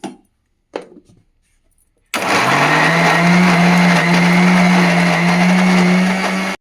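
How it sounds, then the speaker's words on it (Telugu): A mixer grinder blends a ridge gourd peel chutney for a Telugu-style pachadi, starting abruptly after a few soft clicks and then whirring loud and steady with a constant motor hum and grinding rattle until the end. "ఇప్పుడు మిక్స్కి వేద్దాం"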